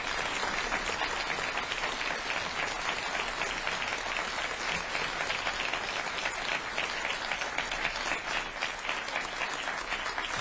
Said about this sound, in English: we have asked you that you hold your applause during the debate, except for right now.